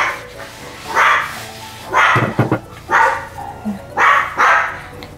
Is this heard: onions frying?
no